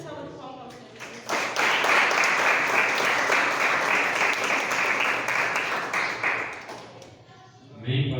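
A church congregation claps together for Jesus, with a burst of loud, dense clapping that swells, holds for several seconds and then fades, with a voice speaking briefly before and after.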